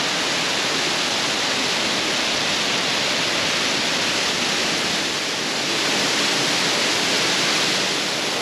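A resort waterfall pours in a steady, loud, full roar that stays constant and close throughout, with no voices.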